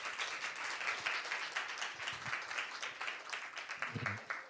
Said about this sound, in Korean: 우리 박 목사님 앞으로 나오실 때 큰 박수로 환영해